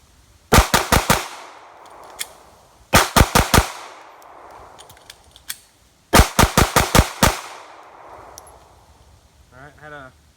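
A Glock 42 pistol fires 14 rapid shots in three quick bursts, loud and close, with a brief voice at the end.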